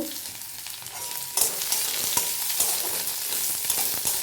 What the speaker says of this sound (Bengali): এটাকে একটু ভেজে নেব আমি